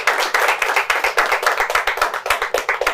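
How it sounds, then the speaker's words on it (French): Audience applause at a live French-language show, a dense run of hand claps with rhythmic surges, close and loud, with no talking over it. "on applaudit ça"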